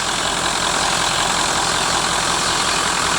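A 1996 Ford F-350 dually with a Powerstroke diesel engine runs steadily, a loud, close, broadband rumble with a low throb and no change in pitch, with no other sounds.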